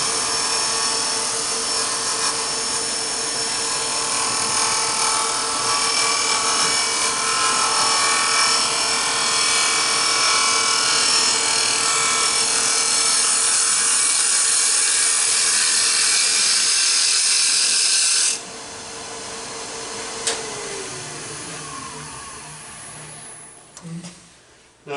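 Lathe gouge cutting a wooden Japanese-style cup, a steady high whirring hiss of the tool on spinning wood that stops abruptly, leaving lighter scraping and touches.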